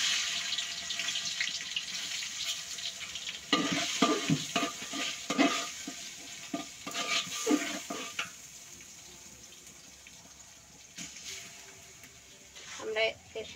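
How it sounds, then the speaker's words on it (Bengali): Polao rice stirred and fried with onions in a pan for morog polao, a steady sizzle with scraping stirring strokes clustered in the middle and near the end, plus watery clatter. "এবার আমি পোলাও চাউলটা ভোনার জন্য ঢেলে দিব এই পেঁয়াজের মাঝে"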